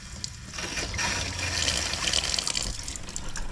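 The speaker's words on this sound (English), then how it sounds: "Still a little bit murky as it goes through the filter." Filtered water, still slightly murky, gushes from a tap on a sailing boat: a loud, continuous close-up stream splashing into a sink, with no talking.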